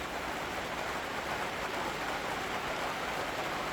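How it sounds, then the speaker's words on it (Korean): Steady rain patters on a greenhouse roof, a soft, continuous hiss with no pauses and no voices. "빗 떨어지는 소리가 엄청 정겹습니다"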